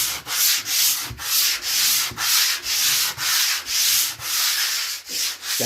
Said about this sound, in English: You gotta sand it.